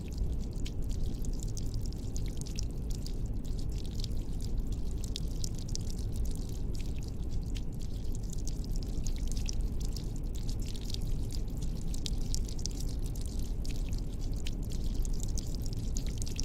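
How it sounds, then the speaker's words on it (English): Steady rushing and pouring water, like a leak streaming through a door, runs continuously and fairly evenly, with no speech. "Is the water gonna spill out the door?"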